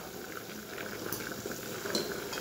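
Curry with added water boils in a pot, a steady close bubbling and simmering that runs continuously without pause.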